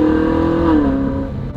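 Ferrari engine droning steadily while climbing a mountain pass above St. Moritz, loud and close with a sustained tone that shifts slightly as revs change.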